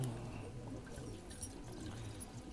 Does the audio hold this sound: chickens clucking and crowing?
no